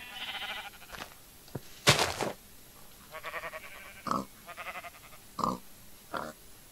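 Pig grunts and squeals from the video game Minecraft, several short separate calls spaced irregularly over a few seconds, fairly close and clear with no talking.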